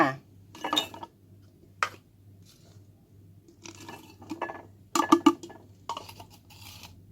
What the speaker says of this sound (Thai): เราจะต้องใช้เป็นขวดโหลแก้วเท่านั้นนะคะในการหมักนะ เราเทส่วนผสมลงไปเลย